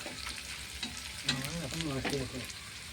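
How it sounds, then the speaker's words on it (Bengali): Chopped banana flower (mocha) tipped into a hot oiled pan in a home kitchen, hissing and sizzling steadily, with stirring scrapes and a few faint background tones beneath. "তো ঢেলে দাও এবার মোচাটা।"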